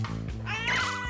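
A house cat that was once a stray gives one drawn-out meow, rising and then falling, loud and close over a low steady hum.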